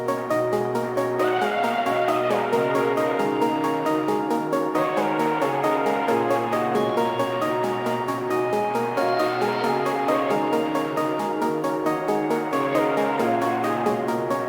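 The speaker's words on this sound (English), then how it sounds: "So I played this kind of repeating chord progression just very quickly." Ghetto Flowers key from Furno's Omnibank playing quick repeating two-note chords in a looping progression, steady mid-loud rhythmic pulses with bright ringing tails, sounding alone.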